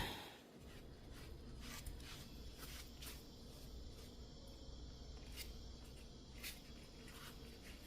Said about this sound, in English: that's just normal Texas insects making noise for the night